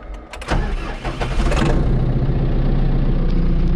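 A farm vehicle engine cranks briefly, catches and roars to life, then settles into a loud, steady mid-pitched running rumble close by.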